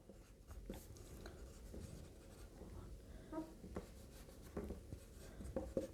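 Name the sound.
writing the answer on a board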